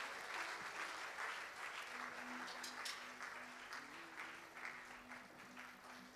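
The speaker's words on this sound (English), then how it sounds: "just give a clap offering unto the Lord" Church congregation clapping hands during a Sunday worship service, a dense, steady wash of applause filling the room, with a faint sustained tone underneath in the latter half.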